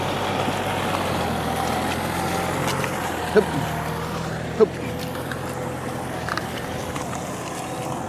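A farm tractor approaches with a steady, low engine drone that holds for several seconds. Two sharp knocks stand out partway through, and faint voices sit in the background.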